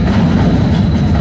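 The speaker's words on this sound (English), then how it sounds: "I can hear the train in back of me." A train rumbles past behind a large-format film photographer outdoors, a loud, dense low roar with a steady rolling clatter filling the whole moment.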